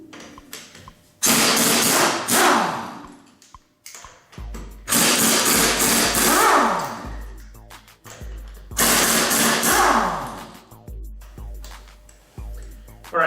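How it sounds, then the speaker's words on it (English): An impact gun rattles in three loud, close bursts of a couple of seconds each while loosening lug nuts on a Honda Pilot, with short pauses between them. "we're going to loosen up the lug nuts"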